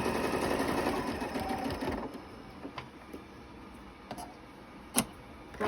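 A sewing machine runs steadily for about two seconds, stitching scrap fabric strips together with a 1/4-inch seam, then stops, leaving a few faint ticks and clicks.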